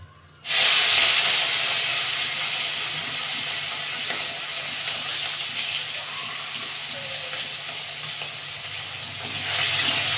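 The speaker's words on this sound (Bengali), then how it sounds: "চিংড়ি মাছটা একটু ভাজা ভাজা করে দেবো।" Prawns sizzle and crackle steadily in hot oil in a pan, loud and close after a sudden start, with a continuous bright hiss running throughout and no talking.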